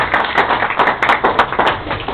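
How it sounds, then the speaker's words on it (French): Audience at a commemorative gathering in Brussels applauds an ambassador of Ghana, a dense, steady wash of many hands clapping close by with no speech over it. "que je vous demande d'applaudir"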